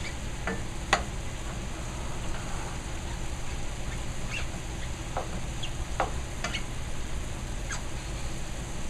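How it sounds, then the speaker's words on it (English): Meat browning in a pan for guisado gives a steady, close sizzle with a few brief clicks and scrapes from stirring, with no talking. "So as you can see, our meat's browning."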